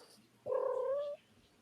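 A cat lets out a single drawn-out, upset meow lasting under a second, fairly close and clear against a quiet room with no talking.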